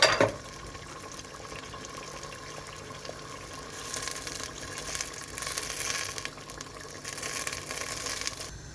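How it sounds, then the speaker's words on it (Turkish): About 2 litres of water pours steadily into a soup pot with a continuous splashing hiss, growing slightly louder and fuller toward the end. "Şöyle suyunu da ekleyeyim"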